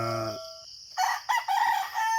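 A rooster crows, followed by a few short clucks and calls from Rhode Island Red chickens nearby, fairly clear with no talking.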